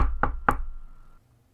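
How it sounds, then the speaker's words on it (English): A pipe is knocked twice in quick succession, two sharp close hits followed by a short metallic ring that fades to quiet, with no talk. "Yeah, you can knock on the pipe."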